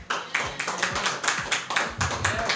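A church congregation claps in a steady, loosely synchronized rhythm, roughly two claps per second, the sound close and fairly loud.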